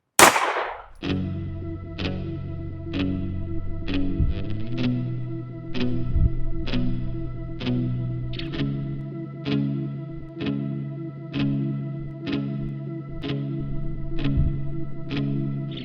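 A Beretta pistol fires a single .380 ACP +P round into a gel block, one sharp crack right at the start, followed by a steady rhythmic music track that carries on to the end.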